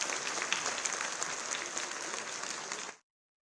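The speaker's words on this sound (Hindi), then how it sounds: "एक बार सबके लिए जोरदार तालियां होगी" An audience claps steadily for guests seated on stage at a school modernisation launch event in India, a dense burst of applause that cuts off abruptly into silence.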